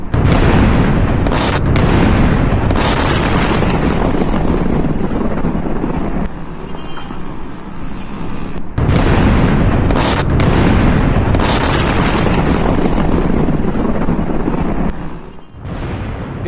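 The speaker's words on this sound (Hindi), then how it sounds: "चाबहार पोर्ट के पास हमला होता है और जबरदस्त धमाका यहां पर होता हुआ दिखता है।" Bombing near Chabahar port in Iran, heard as loud, rumbling explosive booms in repeated bursts with brief lulls, buffeted by heavy wind noise on the microphone.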